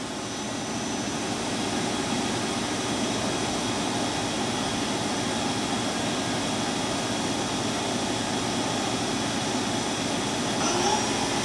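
The spindle of a KURAKI KV-1000 three-axis vertical machining center runs in low gear at 500 RPM, a steady, faint mechanical hum with a whining tone, even and unbroken throughout.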